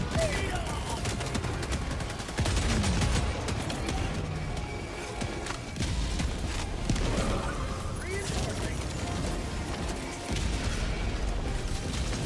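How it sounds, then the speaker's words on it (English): Orbital barrage explosions pounding continuously in the Helldivers 2 video game, dense rumbling blasts and crackling gunfire layered loudly throughout with brief lulls between volleys. "Okay, I'm throwing that barrage as far away as I can, and hopefully it won't kill us all"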